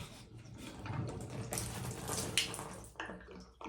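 Water trickling and splashing out of a plumbing fitting as a part is pulled out, a steady close wash of running liquid with a brief louder gush midway.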